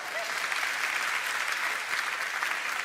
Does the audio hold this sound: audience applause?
yes